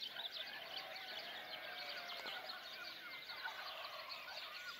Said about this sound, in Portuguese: Pássaros, gaivotas.